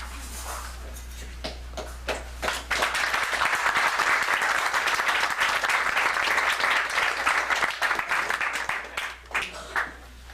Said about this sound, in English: I think they were clapping for you, Jason